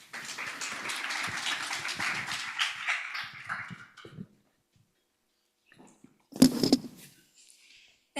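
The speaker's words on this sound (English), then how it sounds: "Please, let's give them a round of applause." Applause from a conference audience thanking a panel on global trade cooperation, a dense burst of clapping that fades out after about four seconds, then near-silence, and a short loud flurry of claps near the end.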